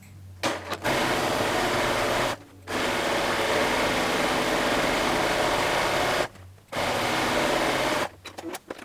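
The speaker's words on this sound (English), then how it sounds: "we're going to sew all the way around from one curve to where the fabric ends on the other side" Sewing machine stitching a half-inch seam around the curved bottom edge of a reversible fabric shoulder bag, with fast steady mechanical whirring in long bursts separated by short pauses, close and moderately loud.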